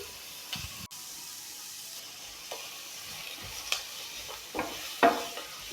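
Onions with a quarter spoon of salt sauté in a pan under a low, even sizzle, punctuated by several scraping stirs and a sharp clink near the start, with no talking.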